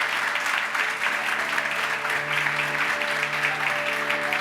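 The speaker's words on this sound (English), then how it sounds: "could you join me in a round of applause for them?" A round of applause fills a civility-in-government talk event, steady and even from a seated audience, with a faint sustained tone humming underneath.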